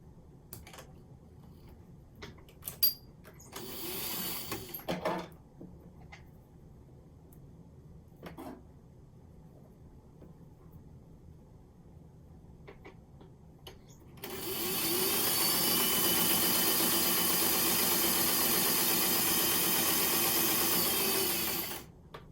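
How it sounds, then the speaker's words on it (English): A sewing machine stitches 4 yards of cording for farmhouse-style decor. It starts as a loud, steady, continuous whirr partway through, after earlier quiet handling clicks and a brief burst of machine sound. "let's get 4 yards of cording sewn. I'll go ahead and sew almost to the end here."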